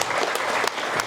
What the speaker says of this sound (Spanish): les pido le den un fuerte aplauso